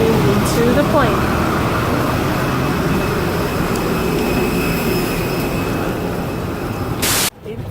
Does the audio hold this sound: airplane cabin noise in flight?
yes